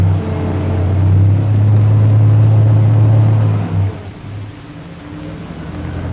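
The diesel engine of an M60 tank runs with a loud, steady low rumble that holds strongly for several seconds, then eases to a quieter idle drone.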